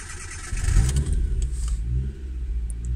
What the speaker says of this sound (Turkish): arabamız çalışıyor canavar gibi